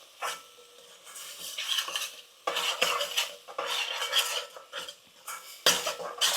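Tomatoes cook in a pan for a cauliflower dish, with repeated bursts of a spoon scraping and clinking against the metal as they are stirred, over a faint sizzle.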